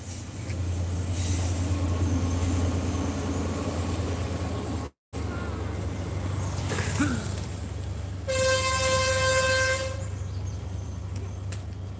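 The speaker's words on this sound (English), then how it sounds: "that is the train." A train passes near Ella, Sri Lanka, with a steady low rumble, a brief dropout, then a loud sustained horn toot lasting a couple of seconds heard from a hillside path.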